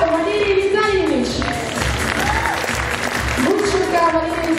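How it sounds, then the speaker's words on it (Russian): Audience applause greeting a curator being introduced at a university physical education debut event, steady clapping heard under and around ongoing talk and music-like tones for several seconds. "Прошу поприветствовать ее аплодисментами"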